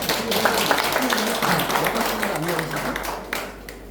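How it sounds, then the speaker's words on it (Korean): An audience at a Korean political rally claps in welcome for a guest speaker, steady applause running throughout with a voice talking over it and some background crowd noise. "박수로 환영해 주시기 바랍니다"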